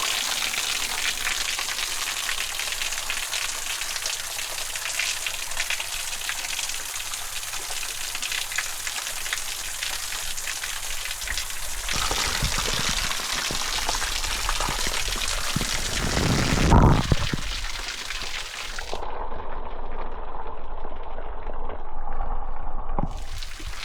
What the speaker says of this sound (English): Okay, I'm at the waterfall.